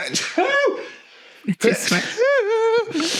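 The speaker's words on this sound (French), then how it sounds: "attendez, je vais éternuer" A single sharp sneeze bursts out between stretches of close, lively talking, with a brief breathy intake around it.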